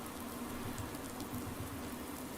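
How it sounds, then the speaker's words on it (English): Rain drumming on a tractor cab roof in a farming video game with a realism mod, a dense, even patter heard from inside, steady and unbroken throughout with no talking. "Now it's raining. Goodness sake. Listen to the in-cab rain, though."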